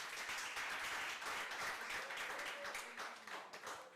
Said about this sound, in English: let's clap for her, Fahima again